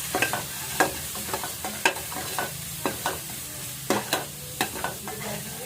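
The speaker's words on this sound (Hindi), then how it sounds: "अब इस वाले मसाले को भी अच्छे से भून लेते हैं।" A masala spice mix roasting in a pan on a home stove: a steady sizzle with repeated scraping stirs from a spoon, alone, with no talking.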